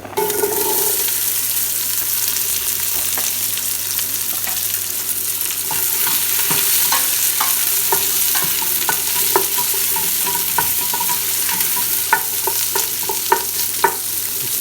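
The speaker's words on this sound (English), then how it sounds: "just because I can't resist having a sizzling pan going." Onions sizzle loudly in a hot frying pan, a steady hiss with occasional crackles and the scrape of stirring.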